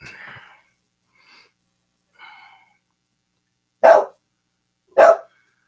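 A dog gives two loud, sharp barks close by, spaced about a second apart, after a few faint softer sounds in an otherwise quiet room.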